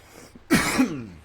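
A single close, harsh cough bursts out after a brief quiet moment, with a short throaty rasp trailing off at the end.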